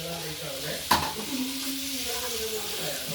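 Lemon pickle stirred in a frying pan sizzles steadily, with a sharp utensil knock against the pan and scraping stirs after it, and muffled voices faintly in the background.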